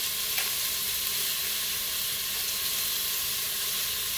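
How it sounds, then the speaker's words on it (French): Chopped onion and smoked pork belly frying together in a Cookeo multicooker, giving a steady, even sizzle and hiss that runs unbroken throughout at moderate loudness with no voices. "l'oignon, je vais le faire revenir en même temps que la poitrine fumée"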